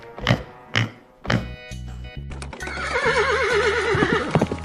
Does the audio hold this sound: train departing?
no